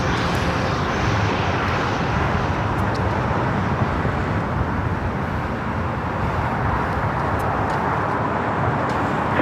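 Asiana Airlines A380 pushing back at LAX, a loud, continuous broadband engine and ground-equipment rumble that stays even throughout with no pauses.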